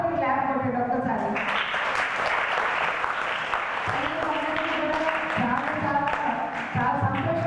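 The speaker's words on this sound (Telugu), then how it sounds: "మన ఆ పాటకి క్లాప్ కొట్టాడు ఒక్కసారి." An audience claps after a song at a Down Syndrome Day event, a sustained round of applause mixed with talking that carries on throughout.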